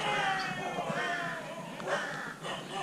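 Crows cawing at a rural temple in Thailand, several rough harsh calls overlapping over a few seconds, moderately close against open outdoor ambience.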